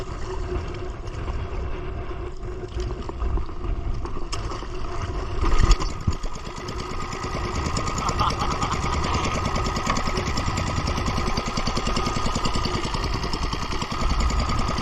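A small boat's engine runs steadily at sea throughout, a continuous loud drone with a rattling, knocking texture and no pauses.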